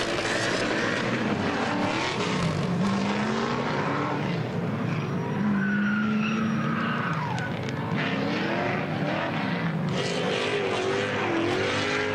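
A 450 hp Toyota GT86 drift car skids at a Nürburgring drift show, engine revs rising and falling with tire squeal over steady crowd and track noise, fairly loud and continuous.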